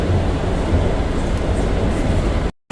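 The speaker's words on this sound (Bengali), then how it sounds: "চলো এসে গেছি ভাওনগর মেট্রো।" A metro train at a Kolkata station gives a steady, dense rumble and roar that stays loud and even throughout before cutting off abruptly near the end.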